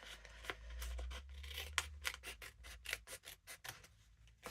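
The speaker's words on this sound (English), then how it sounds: "I'm going to use my scissors." Scissors cut through journal paper in a run of close, repeated snips and rasping strokes, quickening toward the end, over a low rumble with no talking.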